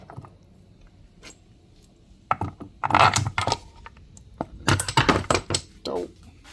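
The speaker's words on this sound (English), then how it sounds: "Put these bolts through." Metal bolts clink and rattle as they are pushed through a pool pump housing, several short close metallic knocks and scrapes in quiet surroundings.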